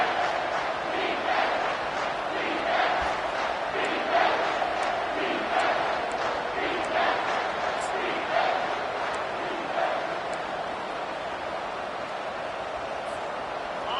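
A football stadium crowd roars on a third-and-three play in a college game between the Golden Bears and Michigan, a massive sustained din of cheering and yelling that swells in bursts and fades slightly toward the end.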